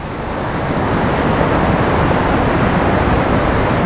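Strong river current rushing past large rocks at a narrow stretch in Nagtipunan, Quirino, a loud, close, constant roar of water with no pauses.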